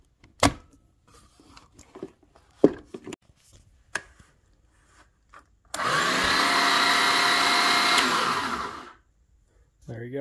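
A Bauer power tool fitted with a DeWalt 20 volt battery whirs loudly for about three seconds after several scattered clicks and handling knocks, then stops.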